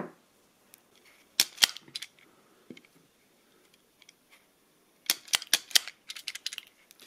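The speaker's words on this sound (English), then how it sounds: "So now I'm just going to cut these to a uniform length." Wire cutters snip through a bundle of wires to trim them to even lengths: sharp, close, dry clicks, a couple of isolated cuts early on, then a quick cluster of snips, with quiet gaps between and no talking.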